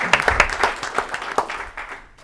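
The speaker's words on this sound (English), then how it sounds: "Let's give them a round of applause." Short burst of scattered clapping from people at a city council meeting, a few distinct claps standing out, fading quickly after about two seconds.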